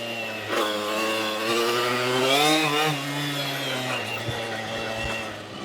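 A Puch ZA 50 moped with a tuned 3-speed aluminium engine rides past close by, its two-stroke note buzzing high and rising through the revs in a steady, raspy drone.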